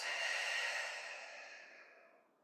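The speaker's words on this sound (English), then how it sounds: "deep breath in. And open mouth exhale" A single long open-mouth exhale during a grounding yoga session, breathy and close, tapering off gradually over about two seconds with no talking.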